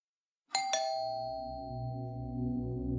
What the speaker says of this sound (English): rang the doorbell